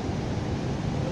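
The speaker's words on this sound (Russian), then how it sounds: "Высоченные волны" Big ocean waves roll in at Nha Trang beach, giving a steady, broad wash of surf noise mixed with wind, with no voices.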